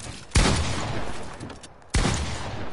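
Two loud, sharp gunshots burst out in the Fortnite video game, spaced about a second and a half apart, each trailing into a rushing, crackling tail.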